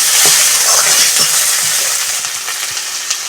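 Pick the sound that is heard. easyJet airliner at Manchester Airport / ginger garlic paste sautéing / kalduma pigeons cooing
ginger garlic paste sautéing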